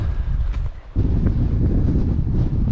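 Strong wind roars and buffets the microphone in a continuous low rumble on the Scottish mountain peak Sgor Gaoith, briefly easing before gusting back in full force.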